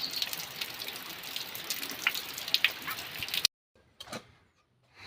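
Steady rain pattering on a surface with scattered drips, cutting off abruptly partway through, after which a brief faint knock or drip follows and near silence remains.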